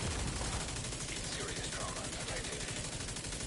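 Enemy machine gun fire in the shooter game The Division 2, a dense, continuous rattle of rapid shots that stays loud and steady throughout.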